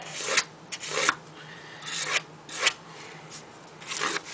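A knife is sharpened by hand in quick rasping strokes, a series of close scraping swipes with short gaps between them.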